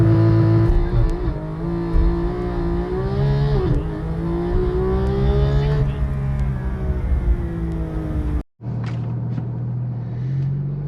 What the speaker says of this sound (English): I've been having a lot of fun with the 0 to 60 or the launch control in this car